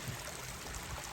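A small creek carrying soil-laden water flows steadily, a soft continuous rush and trickle heard up close, faint and uniform with no voices.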